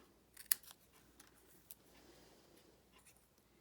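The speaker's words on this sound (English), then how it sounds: "And I'm just doing a basic rectangle cut here." Quiet snips cutting a rectangle of cardstock for a card, with a few faint sharp clicks and crisp snipping sounds spread over a few seconds against a near-silent background.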